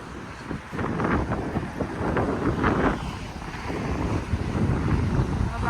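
Wind buffets the microphone in continuous gusty rumbles that rise and fall, drowning out other sounds.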